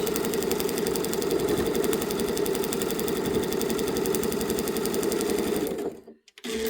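A sewing machine fitted with a denim needle stitches fabric scraps into hearts, a loud, rapid, even mechanical chatter that runs steadily, then stops with a few faint clicks.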